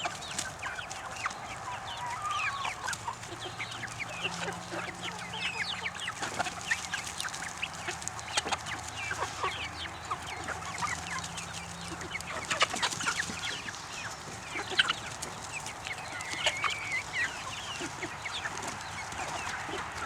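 Backyard chickens cluck and chatter continuously at close range, with a steady mix of soft clucks and sharper calls from several birds.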